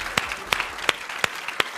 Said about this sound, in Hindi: ताली बजा दीजिए भाई दोनों ओपनिंग बैट्समैन के लिए